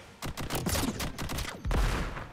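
Rapid bursts of video-game gunfire from Contra: Operation Galuga on PS5, several quick volleys crackling close and loud, with a heavier blast near the end.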